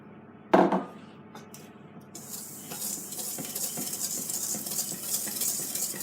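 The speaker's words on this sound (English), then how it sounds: "In the meantime, you can mix the sugar" Sugar and flour get mixed in a bowl, a soft continuous scraping and swishing stir close by that follows a single sharp knock at the start.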